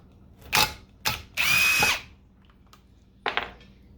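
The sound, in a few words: power drill removing machine screws from electric motor gearbox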